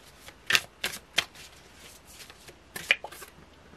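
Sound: shuffling tarot cards

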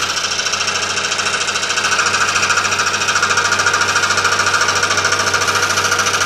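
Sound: scroll saw cutting metal

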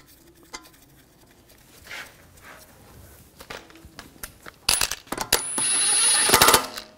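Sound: lug bolts being threaded in to mount wheel on Audi A4

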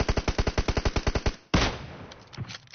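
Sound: gunfire in an online shooter video game

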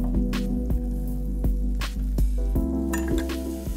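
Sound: onions frying in butter for onion soup

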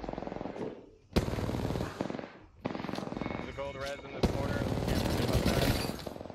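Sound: gunfire in Apex Legends video game

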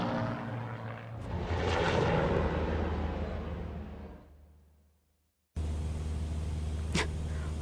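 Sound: airplane engine in a horror video game

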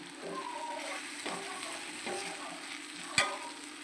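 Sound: sautéing kothu parotta ingredients in pan

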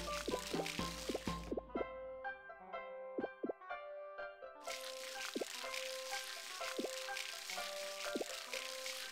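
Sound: watering crops in Harvest Moon: Light of Hope, video game

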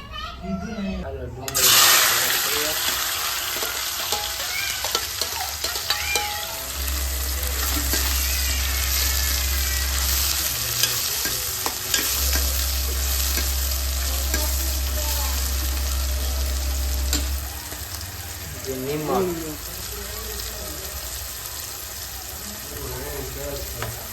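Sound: onion and tomato frying in pan

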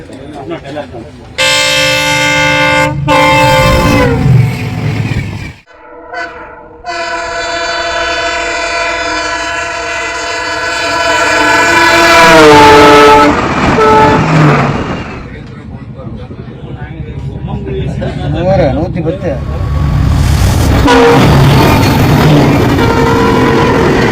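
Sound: passenger train on trial run on new broad-gauge line

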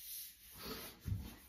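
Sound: sanding an axe

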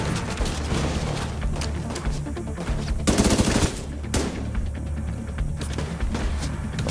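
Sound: turret gunfire in the video game The Division 2

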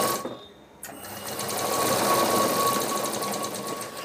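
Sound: sewing machine stitching a folded hem on a potli

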